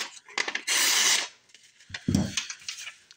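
An OTF karambit blade slicing a sheet of paper: a close, steady rasping cut, then a short burst of mechanical clicks and rustling from handling the knife and paper.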